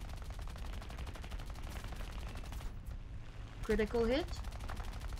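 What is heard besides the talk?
machine gun fire in an armored combat video game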